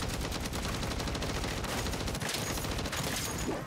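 Rapid, sustained automatic gunfire from a full magazine emptied into a horde of zombies in MW3 Zombies, a loud unbroken burst of shots lasting several seconds with no talking.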